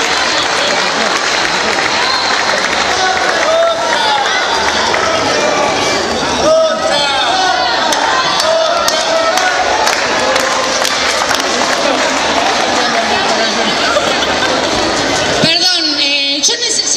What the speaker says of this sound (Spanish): Aplausos a los bailarines y nos fuimos.